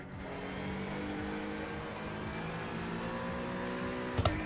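LMP2 prototype race cars at Watkins Glen blasting down the straight, a loud sustained engine roar with steady harmonic pitch climbing as they accelerate past, ending in a brief sharp knock.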